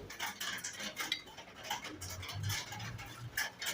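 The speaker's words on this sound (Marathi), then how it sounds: "आता ह्याला आपल्याला नुसतं कट करून ठेवायचं आहे वडी पाडून ठेवायचे" Knife pressing through a tray of soft, freshly set coconut barfi, cutting it into pieces, with light scraping and tapping of metal against the pan repeated quietly throughout.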